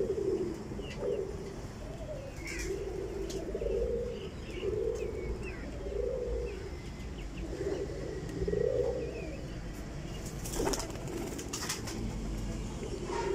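Domestic pigeons, a golden female among them, coo in repeated low rounded phrases at a steady rhythm, close by, with faint chirps and a few sharp knocks.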